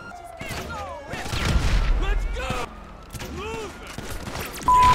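Bursts of gunfire in GTA Online during a store robbery, sharp volleys and booms scattered through the scene, with someone talking between and over the shots.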